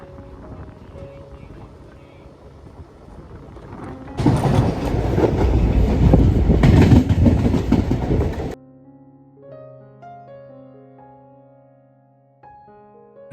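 Ernakulam to Bangalore Intercity Express (12678) running on the rails in daytime, a loud rumbling, clattering roar that swells midway, then cuts to quieter tonal hum with faint sounds.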